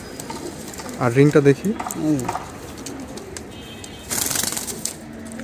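Pigeons of an old breed being handled up close, with deep rhythmic cooing in two bursts and a brief rustle of flapping wings near the end, while someone talks over them.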